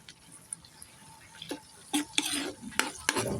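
Onion, garlic and tomato sautéing in a pan for ginisang monggo, a soft background sizzle broken by several sharp utensil scrapes and clinks against the pan, growing busier toward the end.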